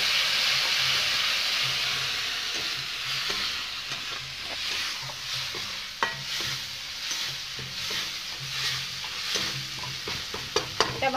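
Mustard paste sizzling in a pan with spices for a shol (snakehead) fish dish as it is stirred, a steady hiss with scraping spoon clicks and a few sharper knocks toward the end, close and without talk.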